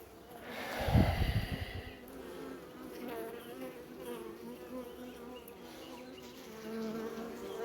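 Honeybees buzz steadily around the edge and inside of a hive, a close, dense hum that continues throughout, with a brief breathy puff of air near the start.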